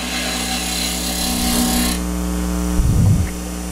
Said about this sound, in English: I'm just using a spindle gouge.